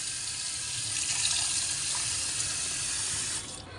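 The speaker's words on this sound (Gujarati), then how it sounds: "આપણે એક આ તપેલીમાં લઈ લીધો છે હવે આપણે પાણી નાખશું અંદર" Water poured into a pot of amaranth grain in a kitchen, a steady close rush of flowing water that runs for several seconds before easing off at the end.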